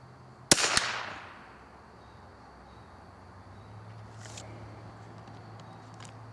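A single sharp rifle shot from an RWS target rifle at a 50-yard range cracks loudly near the start, followed by a fading echo and then quiet outdoor ambience with faint chirps.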